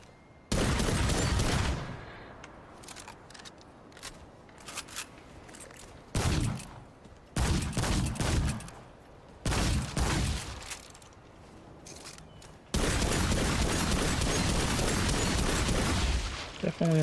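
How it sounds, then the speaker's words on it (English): An automatic shotgun in the souls-like shooter Remnant 2 fires in long, loud, sustained bursts, several separate volleys with short gaps between them, followed by one extended final barrage. "Definitely an automatic shotgun."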